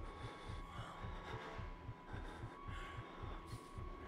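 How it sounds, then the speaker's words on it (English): Heartbeat of the player character in the horror video game Outlast, a steady low double-thump pulse repeating about twice a second over a faint ambient hum, with no talk. "my character is breathing and his heartbeat won't shut up"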